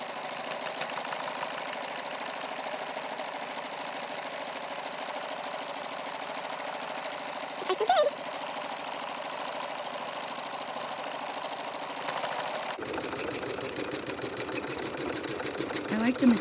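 A sewing machine embroiders with metallic thread, humming steadily and fairly quietly throughout, with a brief clunk midway and a change in pitch near the end.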